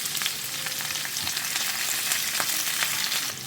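Chopped onions and curry leaves fry in a pan with hot oil, giving a continuous close, bright sizzle and crackle punctuated by occasional stirring scrapes.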